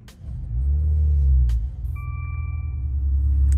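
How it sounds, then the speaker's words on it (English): A Maserati engine idles in sport mode with a deep, steady exhaust rumble, briefly swelling as it starts up, with a faint high electronic tone near the middle. "the sound of a Maserati exhaust"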